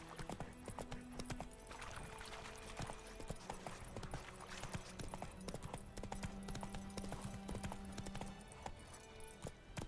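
Roach, a horse in The Witcher 3, trots steadily with rhythmic clip-clop hooves under quiet game music, the hoofbeats close and continuous throughout.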